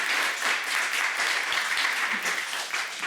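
Steady applause from a studio audience on a daytime talk show, with even, continuous clapping at moderate loudness and no speech over it.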